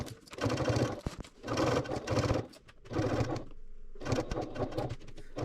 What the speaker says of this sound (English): take it to our sewing machine, and we're going to base stitch alongside the top edge of our exterior panel